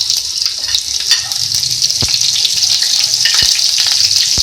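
Carom and cumin seeds sizzle and fry in hot oil in a home kitchen for daal, a loud steady crackling hiss with a few sharp pops, close up and without speech.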